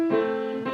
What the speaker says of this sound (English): but if you don't use pedal, it sounds like this.